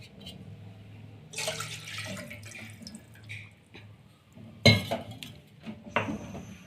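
Milk poured into a pot while making Kashmiri pink tea, a liquid splash and trickle with kitchen clatter, including a sharp clink near the middle and another near the end, no talking.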